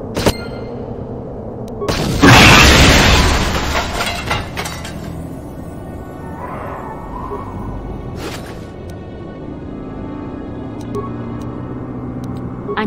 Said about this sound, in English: Hopefully the explosion kills you,